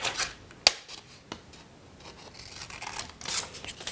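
Scissors snipping out paper dinosaur spikes, arms and teeth at close range, with a sharp cut near the start, a softer one around the middle and rustling paper handling toward the end, with no voices.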